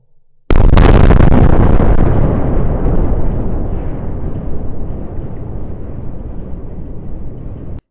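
A large blast, either a thermobaric explosion or a steel box being blown apart, hits suddenly and very loud. Then a long, roaring rumble slowly fades over several seconds with no voices.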